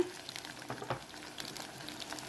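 Onions and spices sizzling and frying in a pan, a steady close crackle with small bursts of spatter while the masala cooks for a jackfruit biryani.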